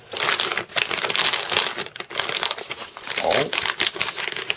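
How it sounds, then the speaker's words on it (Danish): A plastic sous vide bag being unfolded and handled close up, giving continuous loud crinkling and rustling with small pauses and no speech. "det næste jeg gør, det er, at jeg folder sous vide posen ud her"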